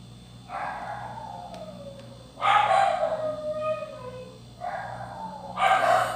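Several dogs bark and howl in repeated bursts, fairly close and loud, with drawn-out howling tones between the barks over a low background hum.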